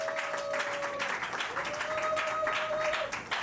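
A church congregation claps at an ordination service, a steady patter of applause running for several seconds beneath a held tone and a speaking voice.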